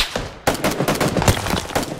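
Dense bursts of automatic gunfire in PUBG, a quiet lead-in followed by rapid repeated shots that crack loud and close over about a second and a half, with no talk.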